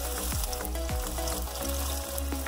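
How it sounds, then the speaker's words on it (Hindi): Medium-size onion fries in a pan for a radish sabzi, giving a steady close sizzle with faint scraping stirs throughout. "अब यहाँ इसमें मीडियम साइज की प्याज ऐड करिए, और इसको अच्छे से फ्राई करना है।"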